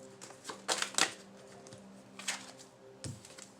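Playing cards are shuffled in a few quick riffling bursts with pauses between them, close and fairly quiet, with no voices.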